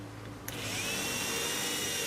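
A click, then a power drill spins up and whines steadily, close and loud, boring continuously.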